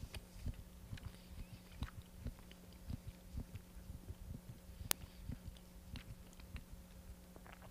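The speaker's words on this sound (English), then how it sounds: "Can you hear me chewing?" Close, soft chewing of food with repeated moist crunches and bites in an irregular rhythm, heard alone over a low steady hum with no talking.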